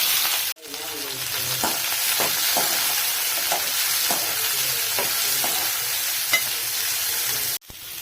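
Small shallots and dried red chillies sizzle loudly in hot oil with mustard seeds for tempering, a steady close frying hiss with faint stirring ticks, broken by a brief cut near each end.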